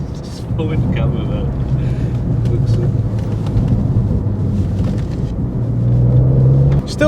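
A tuned BMW G80 M3 pulls hard at full throttle on a damp country lane, its engine a loud, sustained low roar that swells toward the end, with someone talking over it.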